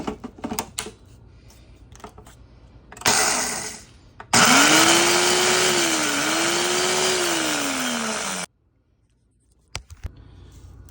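An electric blender roars into a loud, steady grind of roasted spices for tamarind pickle, its whining motor pitch dipping and rising, preceded by brief clatter and a short whir, then stops abruptly.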